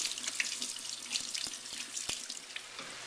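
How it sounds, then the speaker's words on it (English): Tap water runs steadily into a kitchen sink while hands are washed after browning ground turkey, a continuous close splashing hiss with a few small clinks and drips and no talking. "wash my hands"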